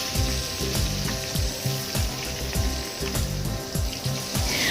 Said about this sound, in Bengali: ফ্লেমটাকে মিডিয়ামে করে মাছগুলো দিয়ে দিন ভাজার জন্য